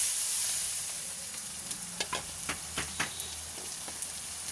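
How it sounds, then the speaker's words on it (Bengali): Sliced onion drops into hot oil already holding bay leaf and dried red chilli. It gives a soft, steady sizzle broken by scattered sharp crackles and pops, close by, with no voices. "আর এবার পেঁয়াজটা দিয়ে দিলাম।"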